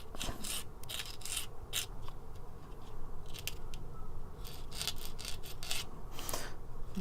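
A tiny plastic part from a 1:144 Revell Sikorsky CH-53G model kit is filed and sanded by hand, producing short, irregular scratchy rasping strokes close up with pauses between bursts.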